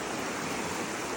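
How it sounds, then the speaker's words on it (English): River rapids on the Ozark Highlands Trail, silty water rushing in a dense, steady broadband roar, close and continuous, with no voices. "because of all these like rapids here"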